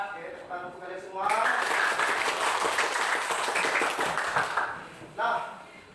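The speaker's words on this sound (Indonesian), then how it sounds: "tepuk tangan untuk kalian semua" A classroom of students applauds together for several seconds, a steady dense patter of many hands clapping at close range, with a short renewed burst near the end and a voice just before it starts.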